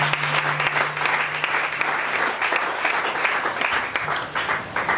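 A church congregation breaks into sustained applause, dense and steady for the full five seconds with no speech over it.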